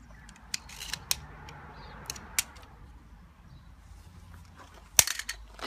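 Scissors snip off the excess end of a tubeless car tyre repair plug, giving a few sharp, isolated clicks spread over a quiet background, with one louder cut near the end.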